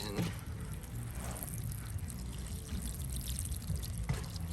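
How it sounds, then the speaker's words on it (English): Water pours steadily over freshly transplanted seedlings in soil, a continuous close splashing trickle with no talk. "last step is to water your transplants in"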